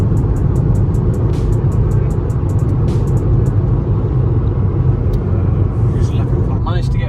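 An Audi A1 salvage build drives steadily along a bypass, with a loud, continuous road and engine rumble from inside the cabin and faint ticking and rattles over it.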